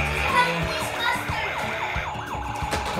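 Toy remote-controlled police car playing a wailing siren, a rising and falling whoop repeated several times, close and moderately loud, with faint voices in the background.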